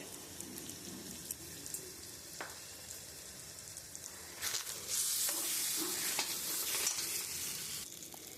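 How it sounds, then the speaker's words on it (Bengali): Asafoetida hits hot oil in a pan, giving a steady close sizzle with scraping stir strokes, rising louder and brighter partway through as frying intensifies. "আমি এখানে একটু হিং দিয়ে নেব"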